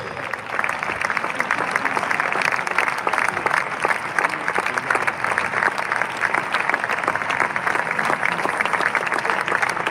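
Loud, sustained applause from a large congregation of about two thousand people at a funeral service, dense clapping running steadily throughout the whole stretch.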